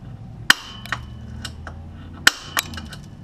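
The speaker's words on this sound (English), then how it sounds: "now I'm going to try to use my little spring-loaded center punch and use this mark that I made" Spring-loaded center punch snapping against metal to mark a divot during a Polaris RZR 570 lift kit installation, giving two sharp, close metallic clicks with faint lighter taps in between.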